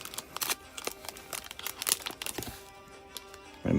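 Scissors snip and crinkle through the sealed foil wrapper of a trading card pack, a close run of short crisp cuts and rustles with a louder handling thump at the end.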